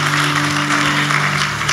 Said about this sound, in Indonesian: Ya, beri tepuk tangan buat Tuhan.